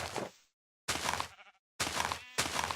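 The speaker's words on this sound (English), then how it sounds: "Poor sheep over there is getting trounced" Sheep in the Minecraft video game bleat in short bursts, three or four calls separated by silent gaps, fairly faint with some thunks between them.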